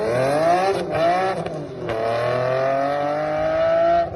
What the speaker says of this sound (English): Attached to that is going to be a Section 2 side exhaust, and I'm guessing it is going to sound a little bit like this.